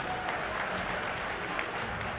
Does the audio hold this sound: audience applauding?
yes